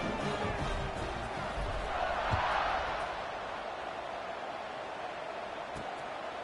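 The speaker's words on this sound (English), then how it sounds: "this crowd is buzzing after that last score" A college football crowd at Purdue vs. Boston College buzzes after a score as the kickoff approaches. It is a steady, broad roar of many voices at moderate level, swelling briefly in the middle before settling back.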